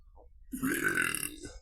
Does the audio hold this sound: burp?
yes